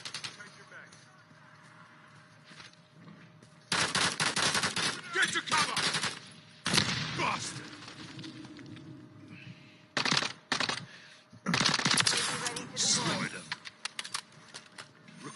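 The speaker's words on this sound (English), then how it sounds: "I'm taking effective fire." Rapid bursts of automatic gunfire from the video game Call of Duty crack loudly in several clusters, with brief pauses between volleys, over a steady bed of game ambience and faint voice chatter.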